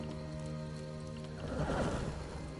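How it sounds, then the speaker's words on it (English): A zombie horse in a PS4 game gives a drawn-out neigh over steady droning game ambience, swelling into a louder, noisier burst halfway through. "Yeah, zombie horse."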